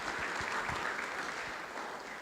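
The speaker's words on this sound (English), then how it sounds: "So let's give a big round of applause to this community." Sustained applause from a sold-out crowd at a community heroes luncheon in Rossmoor, a steady, fairly distant wash of many hands clapping at once, even in level throughout.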